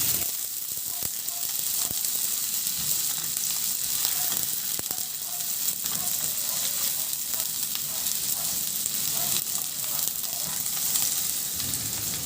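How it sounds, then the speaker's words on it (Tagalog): Onions sauté with pork and garlic in a hot pan for a Filipino ginisang baboy, a steady, loud bright sizzle with faint occasional stirring scrapes throughout and no talking. "Ihalo lang din hanggang sa maluto yung sibuyas."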